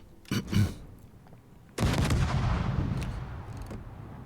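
Naval secondary guns firing in a warship video game: two sharp reports close together, then a heavy boom that rolls into a sustained loud rumble, with a few fainter shots trailing off.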